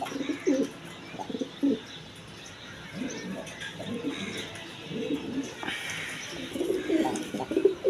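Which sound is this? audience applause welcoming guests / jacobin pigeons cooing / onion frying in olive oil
jacobin pigeons cooing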